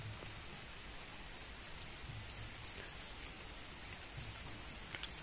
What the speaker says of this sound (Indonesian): Cuacanya juga lagi hujan, Lur.